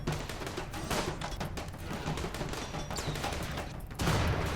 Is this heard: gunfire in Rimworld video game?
yes